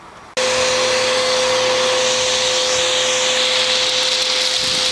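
A Bissell Powerforce vacuum cleaner, just repaired after losing suction and brush spin, switches on abruptly and runs loud and steady with a constant whining hum and airy rush, close by and alone.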